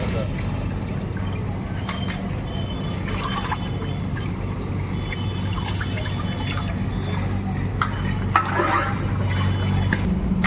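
Pieces of mutton are washed in water in a busy restaurant kitchen before going into a kadhai with onions; splashing and trickling carry on steadily for about ten seconds under voices and kitchen clatter.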